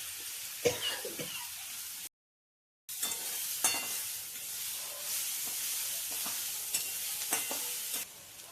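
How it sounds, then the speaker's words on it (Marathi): Chili and garlic sautéing in oil with salt, a steady close sizzle broken by scraping stir strokes, a brief gap of silence, then more frying and stirring. "आता मिरची आपल्याला त्याच्यात परतून घ्यायची चांगली. लसूण आणि मिरची, चवीपुरतं मीठ टाकायचं."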